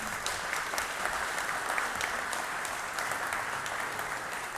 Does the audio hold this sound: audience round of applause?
yes